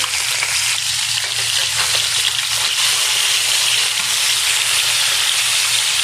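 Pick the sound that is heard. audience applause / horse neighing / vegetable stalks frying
vegetable stalks frying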